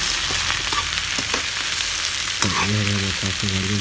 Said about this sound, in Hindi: तो हम मुरई वाली से आधा किलो और गोभी वाली से आधा किलो तो दोनों ला बढ़िया से भून लो